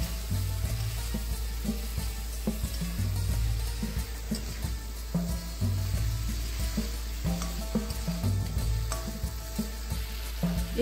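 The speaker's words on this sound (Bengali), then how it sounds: "মশলার সঙ্গে মাছের মাথাটা আরও কয়েক মিনিট ভালোভাবে কষিয়ে নেব" A rohu fish head frying with spices in a pan gives a steady, dense sizzle with recurring scrapes of stirring, close and fairly loud throughout, with no talk.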